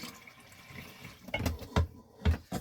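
Water poured into a pan of day-old stew to thin it toward a soup, heard as a short run of splashy, gurgling pours that grow louder near the end, close by and with no talk.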